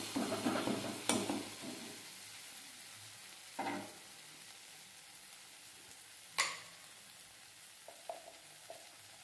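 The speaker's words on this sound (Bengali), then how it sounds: "এরপর আমরা একটু খুন্তি দিয়ে ম্যাশ করে দেবো।" Tomato frying in oil in a pan for egg curry, a soft steady sizzle broken by a few sharp taps and scrapes of a spatula pressing against the pan, close and without voices.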